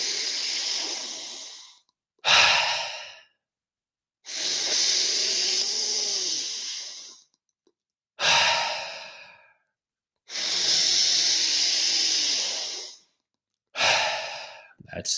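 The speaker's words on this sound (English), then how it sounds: "Let's start with the breath wave. Let's go for 10 breaths together." Deep breath-wave exercise for recovery: slow, close, audible breaths in long inhale and exhale cycles, each several seconds of airy rush separated by short pauses, with sharper quick breaths between, no talking.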